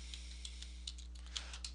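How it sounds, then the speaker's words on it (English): Soft, irregular clicks of a computer keyboard as a password is entered, about ten keystrokes over under two seconds, close up and faint against a low steady electrical hum. "type my password"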